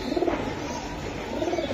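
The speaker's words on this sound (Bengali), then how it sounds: "ছাড়লাম কবুতরগুলো" Pigeons coo nearby in soft, throaty, rolling calls, a burst at the start and another at the end with a quieter gap between.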